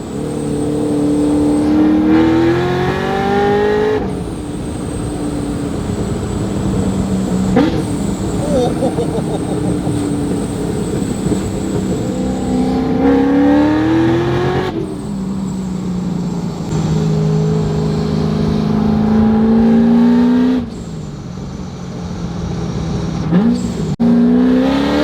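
A Chevrolet C6 Corvette engine revs repeatedly, rising and falling with a high whistling whine over the roar, loud and close, with shift breaks between pulls and voices underneath.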